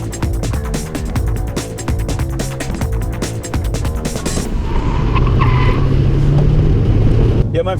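An Eibach-modified car drives on a test circuit, its engine note running under a rhythmic music bed that cuts away, leaving a steady road and engine rumble building toward the end.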